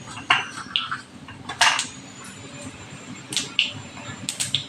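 Mustard seeds dropped into two spoons of hot oil in a pan for tempering, giving sharp, scattered crackles and pops in a few brief bursts over a quiet kitchen background.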